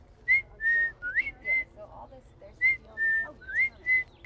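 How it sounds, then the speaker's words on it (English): A person in a yard whistles to owls, short, clear tonal notes in a steady series, some rising, with brief pauses between them; no talking. "I'll go in different spots around the yard and whistle, and they'll just turn their head."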